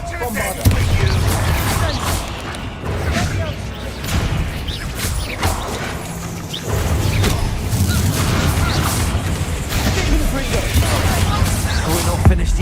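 Loud booming explosions and crashing impacts from Bombarda and other spells blast in the Hogwarts Legacy video game, repeated bursts mixed with dense combat effects and music.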